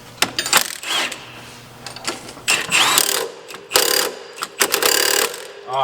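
Milwaukee power tool tightening wheel hub bolts on a Nissan 350Z during a hub and dual caliper adapter install: bursts of rapid mechanical ratcheting clatter, loud and close, starting and stopping several times.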